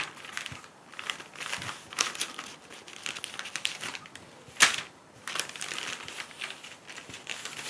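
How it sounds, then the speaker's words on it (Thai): A paper sewing pattern for a loose round-neck pullover top is folded in half, giving close crinkling and crumpling rustles in uneven bursts, with one sharper crackle partway through and no talk. "แล้วเราใช้พับตรงเส้นที่เราแบ่งครึ่งกลางตรงนี้นะ นี่ค่ะ พับเลย"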